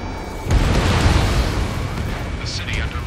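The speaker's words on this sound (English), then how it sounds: "Gunfire and the roar of jets echoing through the streets" Explosive booms and rumbling gunfire roar through a city battle in the Ace Combat 7 video game, a dense, loud wall of low blasts with a brief high whine near the end.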